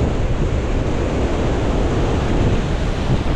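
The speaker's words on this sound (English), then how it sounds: "The wind is blowing so much," Strong wind blowing outdoors on a blustery day: a steady, loud, broadband roar buffeting the microphone, constant from start to end with no pauses and no voices.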